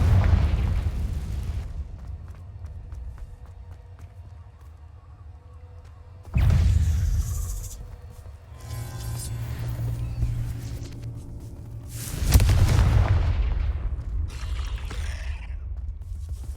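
Confringo fire-spell blasts in Hogwarts Legacy on PS5 Pro, three heavy booming explosions spaced several seconds apart, each with a deep rumbling low end and crackling debris tail, loud and close with no talk.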